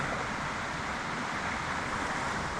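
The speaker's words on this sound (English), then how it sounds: "We've stopped beside the Little River." The Little River flowing beside a hiking trail, a steady broadband rushing of water, constant and moderately close, with no other distinct sounds.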